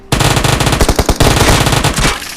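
Rapid automatic gunfire from PUBG Mobile rattles in loud, close, continuous bursts, with a short break partway through before the firing resumes.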